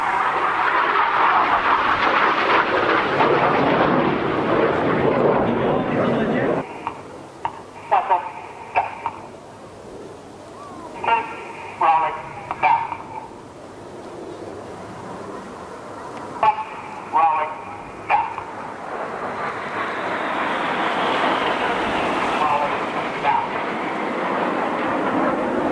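A Red Arrows jet aircraft roars past in an air display at the Arbroath Festival of Heroes, a loud broad rush swelling and fading, then returning near the end, with a commentator speaking over it.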